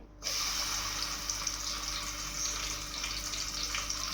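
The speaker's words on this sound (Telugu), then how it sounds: "హీట్ అయిన ఆయిల్లో వేసి ఈ రొయ్యలు మొత్తం చక్కగా ఫ్రై చేసుకోవాలి" Dried prawns frying in hot oil, a steady close sizzle that holds evenly throughout after a sudden start.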